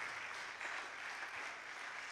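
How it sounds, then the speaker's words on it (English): Audience applause fills a hall, steady dense clapping throughout with no voices on top. "Please, if you are clapping, you can do better."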